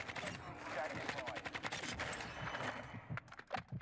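Rapid pistol fire at bots in Call of Duty Modern Warfare 2 cracks out in a dense, continuous string of shots, loud and close throughout.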